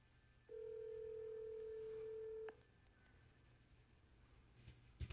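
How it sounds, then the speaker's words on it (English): A telephone call being dialed: a single steady tone sounds clearly for about two seconds, then cuts off, leaving quiet line hiss with faint low hum. "listen to where this phone number goes to when you call this childcare center."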